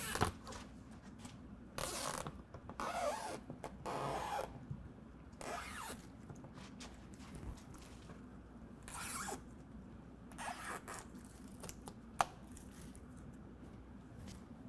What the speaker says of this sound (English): we're going to go ahead and start peeling away our tape protector